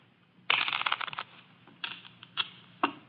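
A new deck of playing cards is shuffled at a card table, a quick riffling flutter followed by a few softer taps and shuffles.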